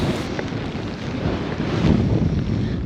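Steady wind buffets the microphone beside a lake during autumn stillwater trout fly fishing, a continuous low rumbling roar with gusts swelling slightly toward the end, no voices.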